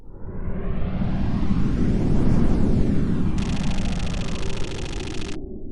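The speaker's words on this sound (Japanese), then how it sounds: "突然爆音が聞こえた。" An explosion sound effect swells into a long, roaring, noisy blast that stays loud for several seconds before slowly fading.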